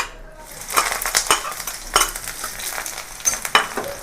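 Fried potatoes are stirred back into hot oil with black cumin and dried chilli, giving a steady sizzle broken by repeated scraping clinks of a spatula against the pan; no voices.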